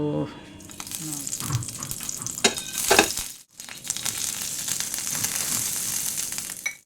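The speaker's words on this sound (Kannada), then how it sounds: "ಸ್ವಲ್ಪ ತುಪ್ಪಕ್ಕೆ ಸ್ವಲ್ಪ ಒಂದು ಸಣ್ಣ ಕಪ್ಪಲ್ಲಿ ಒಂದು ಕಪ್ ರವೆ ಹಾಕ್ಕೊಂಡು ಹುರ್ಕೊಳ್ತಿದ್ದೆ" Semolina (rava) is roasted in a little ghee in a pan, making a soft, steady sizzle and scraping stirring noises, with a brief pause midway, while someone talks over it.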